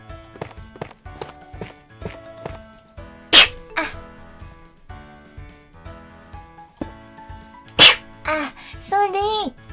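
A VTuber lets out two sharp, loud sneezes a few seconds apart over quiet rhythmic background music, followed by brief vocal sounds.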